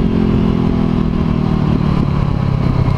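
A motorcycle downshifting on a winter road wet with brine and salt, its engine note loud and close as it drops through the gears, with a deep rumbling exhaust held over a steady rush of wind.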